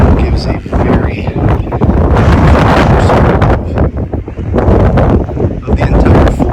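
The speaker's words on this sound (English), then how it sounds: "It's very windy" Strong wind buffets the microphone outdoors by the sea near Fort Jefferson in Dry Tortugas, a loud continuous rumbling roar with gusty surges, and a voice is partly buried beneath it.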